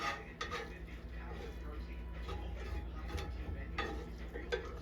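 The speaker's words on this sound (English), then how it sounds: "Let's mix it up real good." Chopped beef and melting Velveeta cheese stirred in a pan over low heat, a steady scraping and soft clinking of utensil against metal, with a voice speaking alongside.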